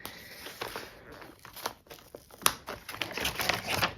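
A stationery subscription box package being opened carefully by hand, with a steady run of crinkling paper, tearing and light rustling, fairly close.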